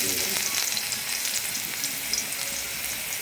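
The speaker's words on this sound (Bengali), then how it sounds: "তো রসুনটা দেওয়ার পর রসুনটাকে একটুখানি লাল করে ভাজবো" Garlic with dried and green chillies frying in hot oil, a dense steady sizzle with crackling pops throughout, close and fairly loud, with no voices.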